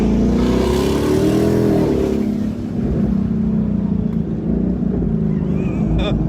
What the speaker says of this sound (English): The exhaust is very pleasant. It's a little deeper than it was before.